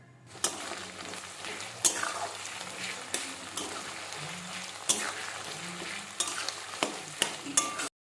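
Garlic and ginger paste with chopped tomatoes and green chilies frying for mutton curry: a continuous close sizzle with repeated scraping stirs and spatula knocks against the pan.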